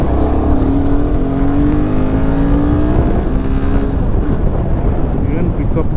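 A motorcycle pulls hard along the Mysore expressway, its engine note rising steadily under heavy, constant wind roar, loud and close throughout.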